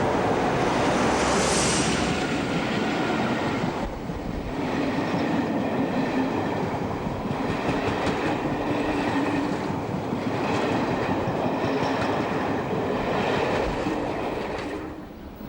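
British Rail diesel shunting locomotive 08434 returns to the Barrow Hill yards with a trip freight working from a local yard. A steady, loud rumble of the train rolls on throughout, with faint rail clatter and no voices.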